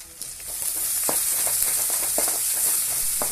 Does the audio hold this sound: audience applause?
no